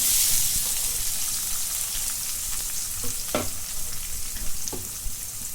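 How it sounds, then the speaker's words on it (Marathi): Steady crackling sizzle of cumin and onion frying in hot oil, with a couple of brief utensil clinks against the pan, close and fairly loud. "आता जिरे टाकून घेते आणि हा कांदा"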